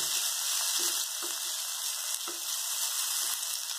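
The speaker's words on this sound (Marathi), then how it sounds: "डाळ छान भाजून घेऊया" Lentils and chopped onion greens fry in a pan, giving a loud, steady sizzling hiss with soft intermittent stirring scrapes underneath, with no talking.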